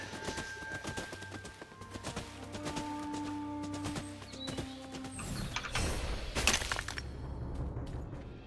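Horse hooves clip-clopping at a gallop in the video game Tribes of Midgard, a steady rhythmic run under game music and effects, followed by a loud shattering crash near the end.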